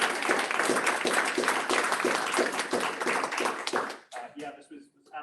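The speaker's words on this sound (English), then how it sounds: "can we get like another audible applause" Audience applause at a community meeting on asset-based language and BIPOC narratives: dense, steady clapping for about four seconds that then thins out and stops, with a voice speaking over it.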